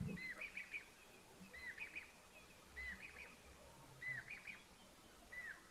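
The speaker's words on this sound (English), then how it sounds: "Sounds like I've got a Diedrich's cuckoo or a Jacobin's cuckoo." A cuckoo at an African waterhole, Diederik's or Jacobin's, repeats a short whistled call about five times at a steady interval, fairly distant and faint over soft outdoor background noise.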